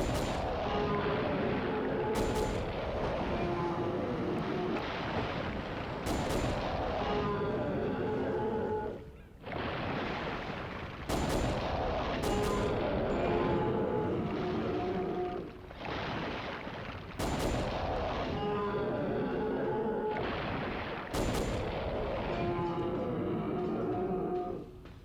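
Dino Crisis 2 gunfire comes as dense, loud, sustained volleys of shots over booming game noise, broken by short pauses roughly every few seconds.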